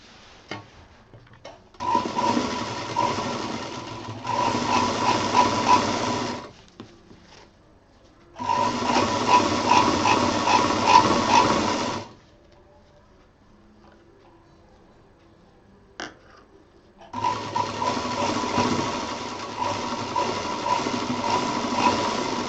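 Sewing machine stitching fabric for a homemade thermos case, three bursts of rapid mechanical clatter of several seconds each, separated by near-silent pauses with faint handling clicks.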